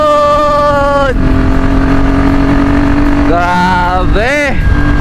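Scooter engine straining up a steep hill road, its whine rising and falling in pitch as it revs, loud and close with a brief dip midway and another climbing surge near the end.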